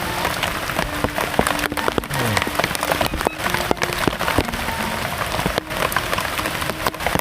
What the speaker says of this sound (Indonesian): Cuaca hujan kieu ngeunah.